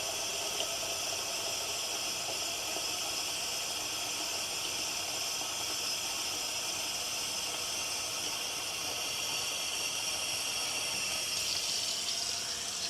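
Hot water pours steadily from a tap into a container for sugar syrup, a continuous bright hissing rush that holds nearly unchanged throughout, close and alone without voices.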